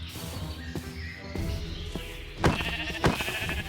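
Sheep bleat in the Minecraft video game in several short, wavering cries that stand out over a soft background, two of them louder and closer toward the end, with no talking.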